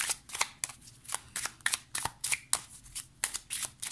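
Tarot cards being laid out and handled, a quick series of crisp card snaps and flicks in an irregular rhythm, close and clear with no talking.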